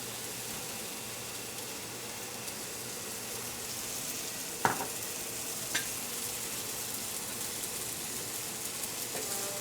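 Food sears in a hot pan with a steady, dense sizzle throughout, close and even, broken by a couple of faint clinks of a utensil and no talking.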